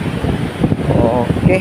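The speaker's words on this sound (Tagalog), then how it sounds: "off camera muna kasi ang lakas ng hangin" Strong wind at the seaside during shore fishing roars into the microphone as a continuous, loud, whooshing hiss, while someone talks briefly over it.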